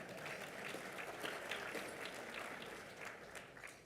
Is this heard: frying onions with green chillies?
no